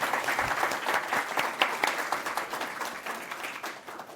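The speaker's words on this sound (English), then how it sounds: "let's give a round of applause for the Nova Scotia Department of Labour" An audience at the Nova Scotia Digital Inclusion Awards ceremony claps steadily, a moderate, continuous round of applause from a crowd filling the whole stretch.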